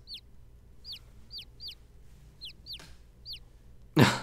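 Chickens from the video game The Great Ace Attorney Chronicles cluck in a courtroom scene, with a string of short, sharp, evenly spaced clucks over a low hum, ending in a loud burst of flapping or squawking.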